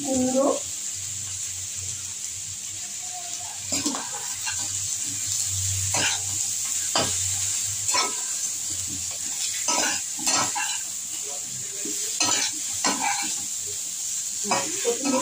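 Pumpkin pieces frying in a pan with oil, stirred now and then, making a steady sizzle with scraping strokes, under some background voices.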